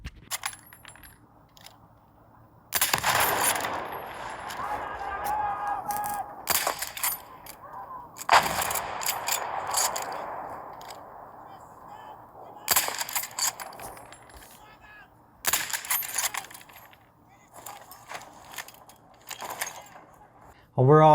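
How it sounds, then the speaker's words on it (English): Gunfire and clattering mechanical effects from a shooting video game, heard through a Beast gaming headset, come in loud bursts separated by quieter stretches over about twenty seconds. "And now with the shooting game sound quality."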